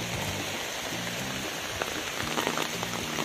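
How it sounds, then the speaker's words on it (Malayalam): Heavy night rain falls on Lakshadweep island, a dense, steady roar of drops hitting surfaces with no break, close and loud throughout. "നല്ല ശക്തമായ മഴയാണ്."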